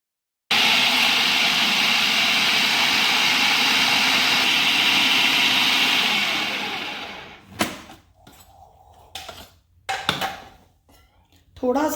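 An electric chopper grinds chana dal with a little water, a loud steady motor whir running for about six seconds before winding down, followed by short bursts and knocks as it stops.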